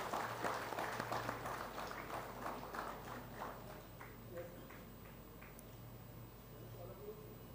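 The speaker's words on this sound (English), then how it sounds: "A round of applause," An audience claps at a brochure release during an aviation event's curtain raiser. The applause is dense at first, then thins and fades over a few seconds, leaving scattered claps and a steady background tone.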